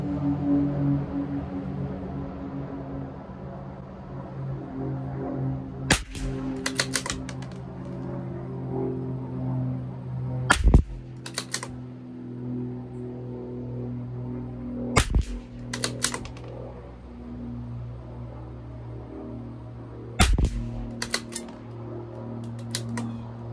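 A CZ 457 LRP rifle with an IBI barrel shoots RWS Special Match ammunition at 50 yards, with sharp reports spaced about five seconds apart, each followed by light mechanical clicks, above a constant low background drone.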